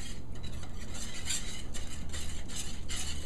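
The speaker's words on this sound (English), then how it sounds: "All this stirring with this whisk is also getting the pieces up off the bottom of the pan that kind of might have stuck earlier on" A wire whisk scrapes and stirs thickening gravy in a pan for baked steak, a steady run of quick metallic clinks and swishes, close and fairly loud, with no voices.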